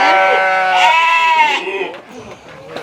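A Jamnapari goat at a farm gives a loud, close, wavering bleat, followed by quieter bleating and background noise as it trails off.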